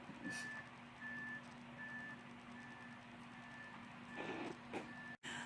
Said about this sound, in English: Just some truck backing up out there, but I was like, what's beeping?